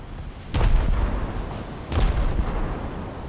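Anti-aircraft guns firing aboard a warship in a naval video game, two rumbling bursts of gunfire about a second and a half apart over a low steady background din.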